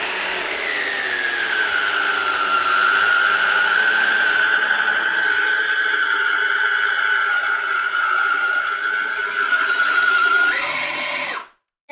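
A loud electric mixer whirs steadily through bundt cake batter for about eleven seconds, its high motor whine shifting slightly in pitch before cutting off abruptly.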